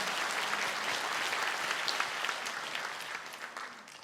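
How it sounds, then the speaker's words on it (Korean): A church congregation claps after a Sunday sermon, filling the hall with a dense, even wash of applause that thins slightly toward the end. "우리 하나님께 영광의 박수를 올려드립시다."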